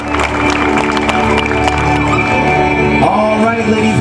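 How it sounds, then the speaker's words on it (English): Audience applause and cheering at a live show, a continuous crowd wash of clapping with scattered shouts and music tones underneath, steady and loud throughout. "how about a big round of applause for Turkey, Popeye, and the Parrot Games?"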